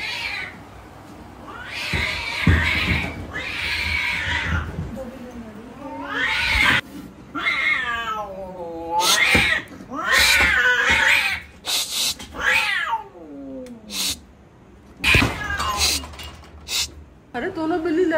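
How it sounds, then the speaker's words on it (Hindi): Two cats fighting indoors, with repeated loud, drawn-out caterwauling yowls and rising wails in bursts throughout, and people talking over and between the cries. "अरे दोनों बिल्ली लड़ रही थी मम्मा आपस में।"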